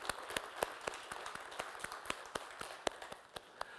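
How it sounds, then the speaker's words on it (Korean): Scattered clapping from a small group during a church service, sharp individual claps at an uneven but steady pace, fairly faint and without cheering. "우리 모든 영광의 박수를 주님께 올려드리겠습니다."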